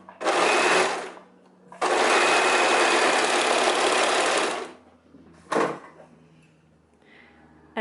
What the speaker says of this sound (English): once we get there, we're just gonna sew over it a few centimeters, just to make sure everything is properly closed.